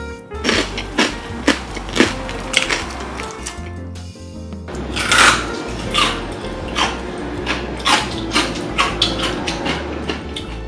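Crispy pressure-cooked pork belly being bitten and chewed, a series of sharp crunchy crackles repeating at a steady pace, close and fairly loud with no talking.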